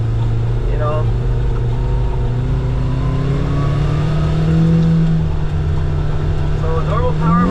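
A 2024 Kawasaki Ridge side-by-side's smaller engine hums steadily while driving in normal power mode, with a low continuous drone and a slight rise in pitch midway, under a voice talking throughout.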